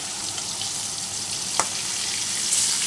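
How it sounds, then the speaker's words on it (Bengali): Pieces of fish fry in hot oil in a wok, making a steady, close sizzling hiss throughout with one brief click partway through. "মাছগুলো এখন এক পিঠ ভাজা হয়ে গেল আর আমি অপর পিঠ উল্টে দিচ্ছি"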